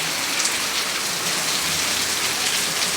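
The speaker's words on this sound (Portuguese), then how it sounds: "muita chuva por aqui, viu?" Heavy nighttime rain falls in a dense, unbroken roar, drops pattering loudly and close on hard surfaces, with no voices present.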